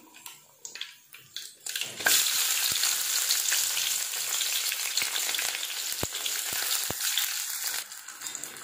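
Onions hit hot oil already crackling with mustard seeds and fenugreek for a fish curry, setting off a loud, sustained sizzle after a few soft pops, with occasional sharp ticks of stirring.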